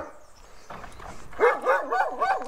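A dog barks in a quick run of sharp, fairly close barks that start about halfway through, after a few moments of quiet room noise.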